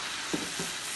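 A ladle of dosa batter for a carrot uthappam hits a hot griddle stone and sizzles at once, a brief, close, steady frying hiss with no voices.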